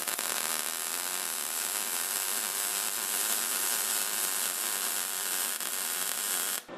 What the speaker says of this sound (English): now that you've got the inside beads done, you want to go and weld the outside corners